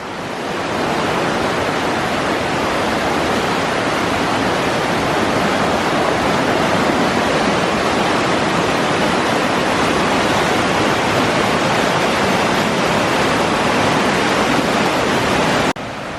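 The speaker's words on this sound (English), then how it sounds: "And this is the Lackawanna River." Steady, loud rushing of the Lackawanna River in Carbondale, Pennsylvania fills the whole stretch, a dense continuous roar with no voices and no pauses until it cuts off near the end.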